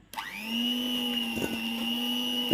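An electric hand mixer whirs up to speed and holds a steady high whine as it beats softened butter and sugar for cookie dough, with a few brief rattles of the beaters against the bowl.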